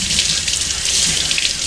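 A 220 grit sharpening stone is rinsed under running water, a short steady splashing hiss from a tap with no voices.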